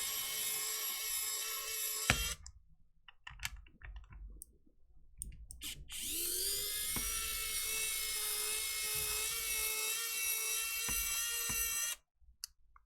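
An electric screwdriver whirs in two sustained high buzzing runs while unscrewing a Game Boy Color console, close up, with small clicks and handling noises between the runs.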